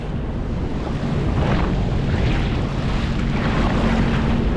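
Jetski bouncing through two-metre ocean swell off the Gold Coast, with steady engine drone buried under loud, constant wind rush and surging surf, no talk.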